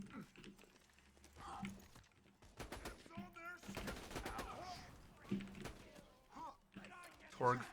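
Assault rifle fire in a fast-paced video game, rattling automatic bursts mixed with mechanical clicks and creaks, fairly quiet, with a player talking over parts of it.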